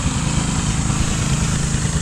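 A steady, loud engine drones on without pause, a low rumbling idle that holds even throughout with no voices.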